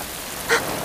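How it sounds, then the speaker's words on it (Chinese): Heavy rain falls in a steady, dense hiss, with one brief louder splash partway through. "下那么大雨"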